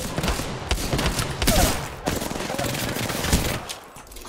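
Rapid automatic gunfire rattles nearly nonstop in an Apex Legends match, loud and close, with dense bursts of shots under occasional voice chatter.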